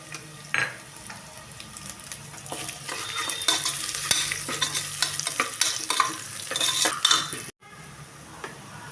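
Sliced onions and a handful of broken dried chillies fry for beef salna, giving a steady close sizzle with repeated spatula stirs and scrapes against the pan.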